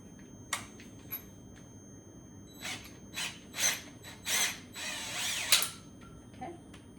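Short bursts of a whirring power drill start and stop several times, lengthening toward the end, with quiet gaps and small clicks between them.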